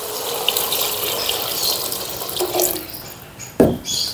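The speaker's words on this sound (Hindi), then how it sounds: "तकरीबन 1 मिनट के बाद हमने इसमें पानी डाल देना है।" Water poured into a pan of fried peas for pulao, a steady gushing stream that builds and then ends with a sharp splash and sizzle near the close.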